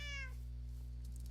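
A single brief cat meow from Minecraft, short and clear, fading quickly over a steady low background hum.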